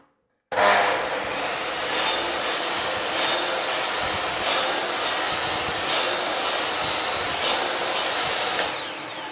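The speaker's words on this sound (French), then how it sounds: "la machine s'est déclenchée au moment où j'ai commencé à couper et elle s'arrête quelques secondes après pour dire de continuer à aspirer les dernières" A Kärcher NT 30/1 workshop vacuum kicks on automatically when cutting starts, a loud constant whooshing roar with regular rasping cutting strokes pulsing over it, close and steady.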